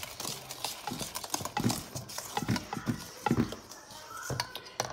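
Spoon or whisk clinking and scraping in a bowl while flour and sugar are stirred into an orange cake batter, an uneven series of close, light knocks and scrapes.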